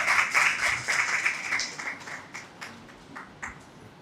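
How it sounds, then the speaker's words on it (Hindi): An audience at a university course inauguration applauds to welcome a professor, with a burst of hand clapping that thins out into a few scattered claps as it fades, fairly faint. "ज़ोरदार तालियों से स्वागत करें।"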